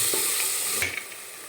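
Crushed ginger and garlic sautéing in a pan, a steady bright sizzle with a couple of short stirring scrapes, close and alone without voices.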